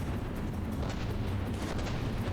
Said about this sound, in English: I'm not sure what's up with these cannons. They're very fast.